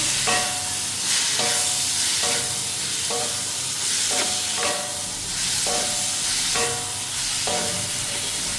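Taro stolons fry in a little oil with ground spices while being stirred, steady sizzling broken by regular scraping strokes about once a second, close and with no voices.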